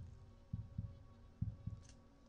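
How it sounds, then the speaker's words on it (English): A heartbeat in a Roblox video game thumps in slow paired beats, two doubles over about two seconds, low and muffled, with nothing else heard. "this heartbeat's really getting to my brain"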